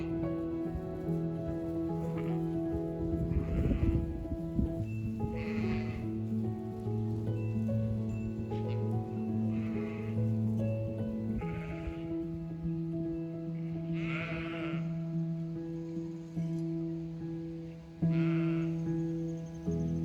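Ewes bleat on a farm, several loud calls spaced irregularly across the stretch, some near and some farther off, over a steady background hum and a patter like light rain.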